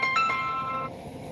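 A phone ringtone plays loudly with a few bright tonal notes in the opening second, then drops away into quieter background.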